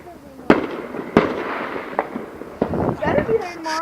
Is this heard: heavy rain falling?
no